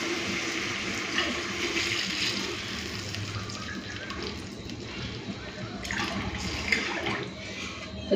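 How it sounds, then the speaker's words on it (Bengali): Water pours steadily from a measuring bowl into rice for white pulao, a continuous close rushing splash that holds even throughout, with a faint voice briefly underneath. "ভালো জল দিচ্ছি।"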